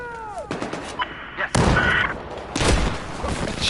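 Gunfire and a frag round explosion in a Battlefield 4 multiplayer match, with scattered shots followed by two heavy, broadband blasts close together, and a dense rumbling tail between them.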